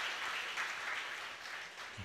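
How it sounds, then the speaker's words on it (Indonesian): Applause from a church congregation during a Sunday service, a steady wash of clapping that fills the room evenly and without a break. "Tepuk tangan dulu buat Tuhan kita."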